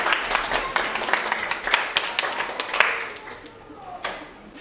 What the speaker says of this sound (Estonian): Teile tugevama aplausi.